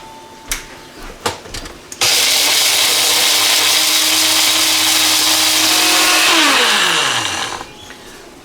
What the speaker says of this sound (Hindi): तो सिवाय मैजिक बुलेट के या कोई ऐसी इंडिया की बनी हुई मशीन हो तो हो जो कि खासकर इन चीज़ों को पीसने के लिए बनाई गई है